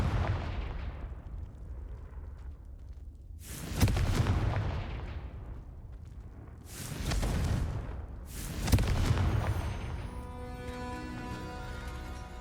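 Fiery Confringo spell blasts in the game Hogwarts Legacy, several heavy booming explosions with rumbling tails over a constant low roar, loud and close, followed by a softer ringing shimmer at the end.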